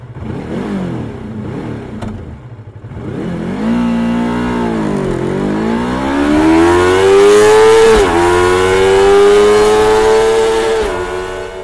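Engine note of 2019 Yamaha MT-25 and MT-15 motorcycles on a test ride, rising from a low rumble into a loud, sustained rev that climbs steadily, dips briefly, then holds high and close.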